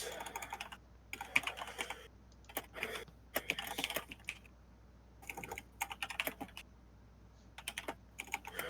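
Typing on a computer keyboard, close bursts of rapid clicking keystrokes separated by short pauses, in a quiet room.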